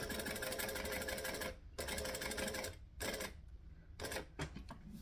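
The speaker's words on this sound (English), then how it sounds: "So we're going to stitch and back stitch." A sewing machine stitches and back stitches in rapid, steady runs, stopping briefly between bursts, close and clear with no talk.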